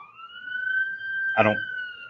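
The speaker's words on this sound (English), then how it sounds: "There's an ambulance out here" A steady wailing ambulance siren sounds outside in Memphis, a sustained tone at moderate distance, with a brief burst of nearby voice or noise cutting in partway through.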